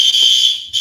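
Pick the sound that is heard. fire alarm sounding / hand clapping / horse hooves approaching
fire alarm sounding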